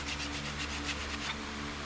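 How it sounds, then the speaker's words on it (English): Dry, rhythmic rasping strokes of sanding nocks into the ends of a primitive hickory bow, quiet and close, repeating evenly with no speech. "Sanding in the knocks"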